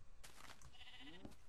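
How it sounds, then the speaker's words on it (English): A trapped sheep in a video game gives a short, faint bleat, a single wavering cry heard alone. "That sheep's still trapped here."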